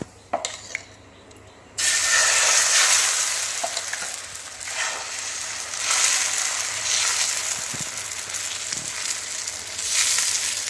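Bottle gourd dosa batter sizzles loudly on a hot stone griddle: a steady frying hiss starts after a quiet moment and holds with slight swells to the end, close and with no voices.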